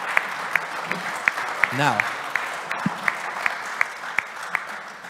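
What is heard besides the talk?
audience applause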